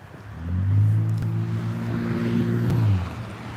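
A loud red car drives past, its engine hum swelling from a faint start into a sustained low rumble for a few seconds before fading, with no talk.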